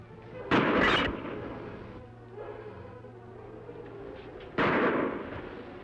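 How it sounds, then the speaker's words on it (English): Two sharp pistol shots in an old radio western drama, spaced a few seconds apart with a low steady hum between them. "Listen. Pistol shots, Kemo Sabe."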